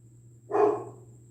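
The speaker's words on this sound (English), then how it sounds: "Why would that dog be barking like that?" A single short dog bark, somewhat distant and moderately loud, over a low steady background hum.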